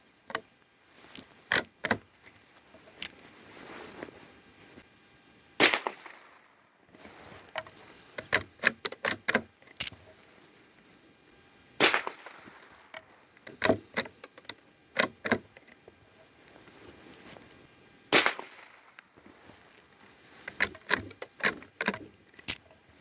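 A Norinco JW-15 .22 rifle fires Federal 40-grain rounds, giving a handful of sharp, loud cracks spaced several seconds apart, mixed with quieter clicks and rattles between shots.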